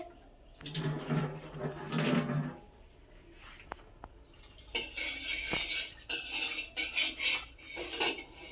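A metal spoon is rinsed under a running kitchen tap, water gushing in bursts with clinks of the spoon against the sink and dishes, close and fairly loud.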